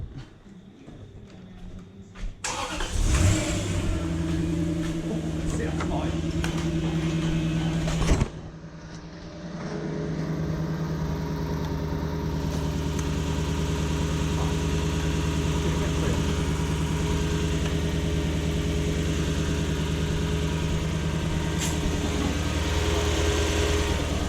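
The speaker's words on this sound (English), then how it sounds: "Sounds like that power steer pump settled. It's not pumping air anymore." A Toyota Soarer (UZZ30, Lexus SC400) 1UZ-FE V8 with new headers and a recently bled power steering pump idles steadily and close by, starting after a couple of quiet seconds and dipping briefly around the eighth second.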